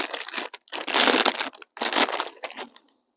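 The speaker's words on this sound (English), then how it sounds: "Got our bag of Funyuns there. Just gonna pick one out of there." A bag of Funyuns onion-flavored fried chips crinkles and rustles loudly in several close bursts as a hand digs inside, with short quiet gaps between.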